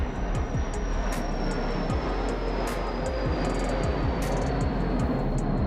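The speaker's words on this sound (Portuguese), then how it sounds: "Passando um avião aqui." An airplane drones steadily overhead, a broad continuous rumble holding constant loudness throughout, with faint high ticking noises above it and no talking.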